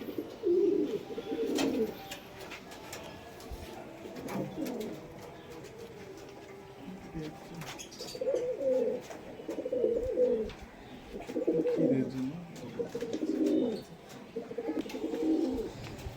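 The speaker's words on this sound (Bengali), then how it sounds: "কামাগার নরে, এটা কামাগার মাদা, এটা জিরিয়া মাদা কামাগার।" Pigeon coos from Kamagar high-flying birds, male and female, come in repeated low murmuring bursts, fairly close, with a soft background hum.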